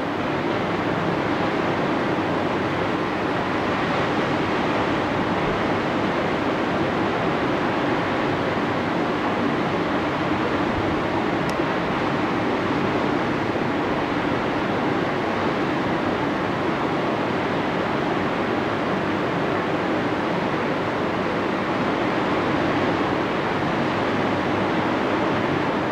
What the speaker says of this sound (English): sleep almost every night with the door open and listen to the ocean